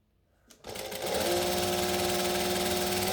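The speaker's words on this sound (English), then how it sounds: "So we're going to stitch and back stitch." A sewing machine stitches and backstitches a seam on a McCall's M6896 sleeveless top, starting up after a brief quiet moment and then running in a steady, continuous close-up whir.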